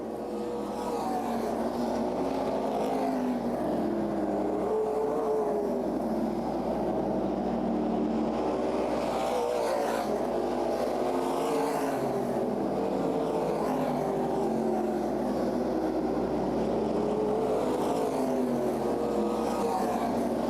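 Race cars in a CRA Super Series late model event at Berlin Raceway roar continuously at a steady, loud level, a dense engine drone from the field circling the oval with no breaks.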